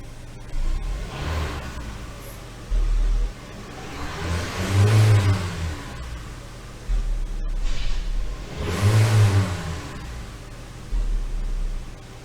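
The engine of a 2017 Hyundai Elantra with a stalling, shaking fault runs close by, idling between two strong revving bursts that rise and fall back to idle.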